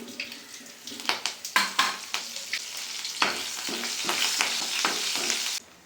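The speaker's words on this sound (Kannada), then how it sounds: "ಕರಿಬೇವು ಹಾಕ್ತಾಯಿದ್ದೀನಿ." Curry leaves hit hot oil for a tempering already holding mustard seeds and stone-crushed garlic, making a close, steady crackling sizzle with quick pops and spoon stirs that cuts off abruptly at the end.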